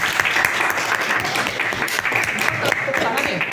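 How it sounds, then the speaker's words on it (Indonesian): An audience in a room gives a dense, continuous round of applause, loud and close, with many hands clapping at once for the whole stretch. "Tepuk tangan ya."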